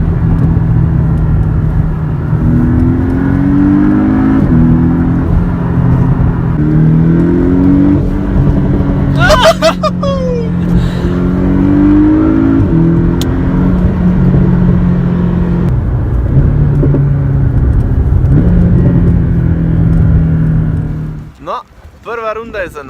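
Porsche Cayman S Cabriolet engine while driving on a road tour, roof up, with a steady low drone and shifting harmonic bands as revs rise and fall, under continuous talk inside the cabin.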